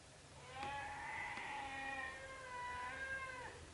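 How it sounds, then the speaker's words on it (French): A docile domestic cat meows in one long, drawn-out, wavering call while being brushed, close and clear against quiet room noise. "Prince, c'est le chat le plus docile que j'ai jamais vu"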